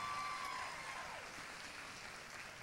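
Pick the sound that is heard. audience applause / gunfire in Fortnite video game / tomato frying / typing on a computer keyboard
audience applause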